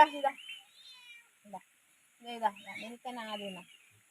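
A house cat meows several times close by in a kitchen where fish is being cut and cooked, giving a few short cries, then a pause, then a quick run of louder, longer meows.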